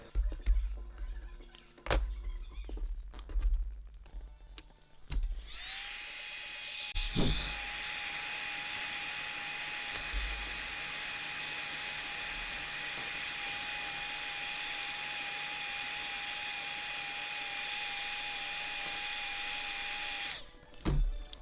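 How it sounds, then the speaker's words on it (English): A heat gun shrinking heat-shrink tubing over two wires blows as a steady, loud motor whine with a high fan hiss for about fifteen seconds, after a few scattered clunks of handling. "So there's your heat shrinking on the two wires."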